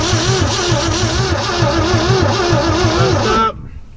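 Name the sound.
Willys truck engine cranking and firing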